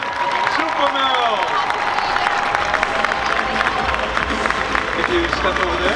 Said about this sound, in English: A huge round of applause for Duo Creative Super Meryl.